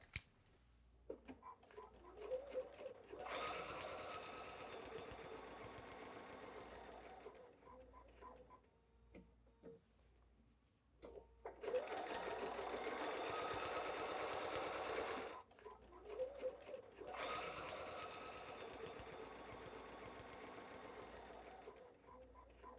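A sewing machine stitches half square triangle quilt blocks in steady, close runs of whirring, separated by short pauses.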